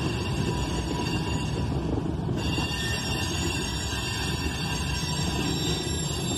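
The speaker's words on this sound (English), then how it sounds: "there's the end of the train" Norfolk Southern freight cars roll past steadily at close range, a constant rumble and clatter of wheels with faint metallic squeal, the tail of an 81-car train going onto a controlled siding, with no talking.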